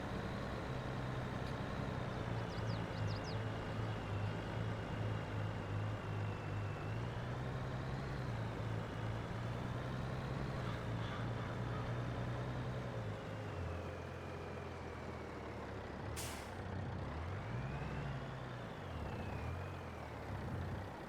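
A truck engine in the Farming Simulator video game drones steadily at idle for the whole stretch, and a single sharp air-brake hiss bursts out near the end.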